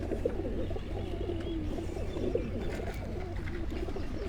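Breeder pigeons on a rooftop coo softly and repeatedly, low rolling calls close by over faint background hum, with no talking heard.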